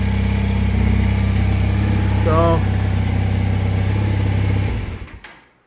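A 1984 Honda CB450SC motorcycle engine idles steadily after carburetor synchronization, a loud, even low-pitched running note that cuts off near the end, with someone speaking briefly over it.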